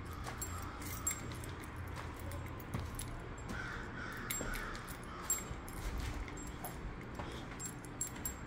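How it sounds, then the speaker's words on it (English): A bunch of keys jangles in short, bright bursts at the back of an outdoor apartment complex by a stairway, while crows caw and a dog whimpers faintly in the background. "Grab my keys."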